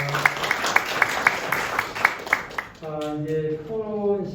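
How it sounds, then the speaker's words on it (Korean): Audience clapping at a church law seminar after a speaker finishes, a short burst of scattered claps at first, then a person talking over it as the clapping fades. "수고하신 우리 왕 박사님 다시 한 박수 한번 드리겠습니다"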